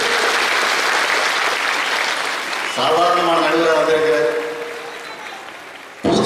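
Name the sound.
Coimbatore audience applauding at a pattimandram debate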